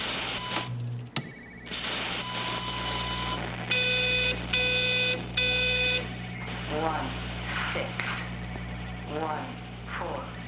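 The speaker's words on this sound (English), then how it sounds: "Sounds like a cell phone." A cell phone rings in the video game Everybody's Gone to the Rapture, sounding three evenly spaced bright electronic bursts over a low ambient hum, followed by warbling tones and faint talk.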